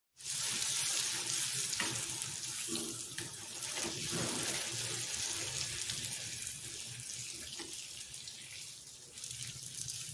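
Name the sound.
food frying in oil in a covered pan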